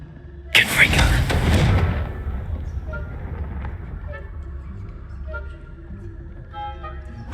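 A Confringo blasting spell in Hogwarts Legacy bursts with a sudden, loud explosive boom that rumbles and decays over about a second, followed by softer game ambience and small scattered effects.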